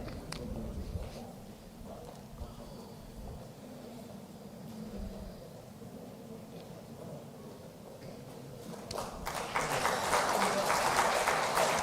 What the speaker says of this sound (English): Ladies and gentlemen, it deserves a big round of applause.